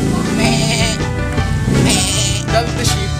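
A sheep bleats in wavering, nasal cries that repeat several times, loud and close over a steady background.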